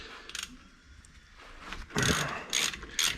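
A 1/2 inch ratchet cracking loose tight brake bolts on a Nissan R32 during brake removal, giving a few short bursts of ratcheting clicks and mechanical rattles, close and loud, with no talk.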